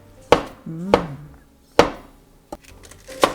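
Pork is sliced with a knife on a board in a home kitchen, giving four sharp, separate chops with short gaps between them and a brief low vocal murmur after the second.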